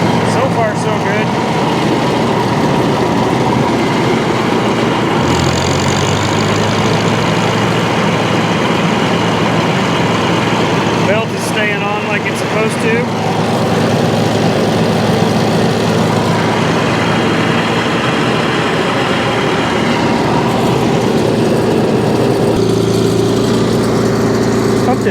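A 1952 Farmall Cub tractor engine running with its mower deck engaged, a loud steady drone with no let-up, close by, with a voice talking over it.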